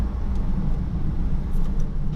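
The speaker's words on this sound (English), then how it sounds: "All the valves open, it revs slightly higher" A Lamborghini engine in sport mode with its exhaust valves open rumbles steadily and loudly from close by, a deep continuous drone without any talk over it.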